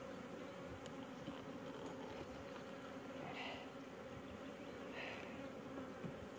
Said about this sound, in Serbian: pošto su ove pčele baš ljute.